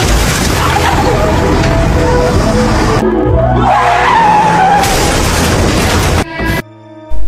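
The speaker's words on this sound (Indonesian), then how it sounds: "mobil tersebut tiba-tiba bannya bocor dan mereka langsung" A car skids hard with a long roaring tire scrape and crash noise at a tire blowout and rollover on a bridge in the drama series Light Shop, loud and close, ending in a sudden cut and brief quiet.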